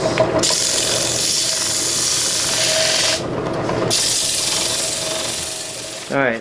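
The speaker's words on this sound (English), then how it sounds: "I could sand the rough corner" A metal pulley's rough corner being sanded on a powered sander in a home workshop, a loud continuous grinding hiss broken by two short pauses, ending in a brief buzzing rattle.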